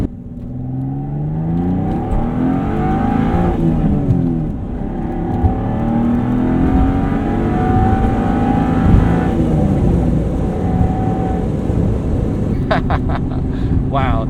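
A 1992 Dodge Stealth RT twin-turbo V6 engine revs and accelerates loudly with a steady rising drone, turbo whine layered on top, close and continuous throughout.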